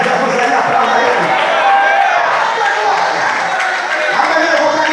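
A church congregation applauding, a steady, loud wash of many hands clapping together, with crowd voices mixed in throughout.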